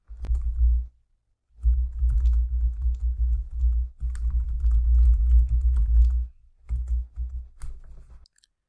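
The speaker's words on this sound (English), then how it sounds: "You use the keyboard to type the words that you want to appear on the screen" Fingers type on a computer keyboard in quick bursts of close, crisp key clicks, separated by short pauses.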